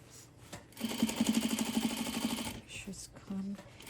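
A sewing machine stitches a jeans hem in a fast, even run of close needle beats lasting about two seconds, then a short second burst, fairly quiet and close, with a voice speaking nearby.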